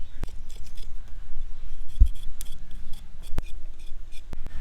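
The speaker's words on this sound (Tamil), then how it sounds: "இஞ்சி நான் கட் பண்றேன்" A knife taps and slices fresh ginger on a board for ginger garlic paste, a handful of sharp chops spread irregularly against quiet background clatter.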